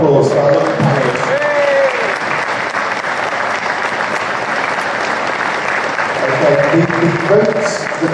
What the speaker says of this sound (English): One final round of applause for our lovely panelists.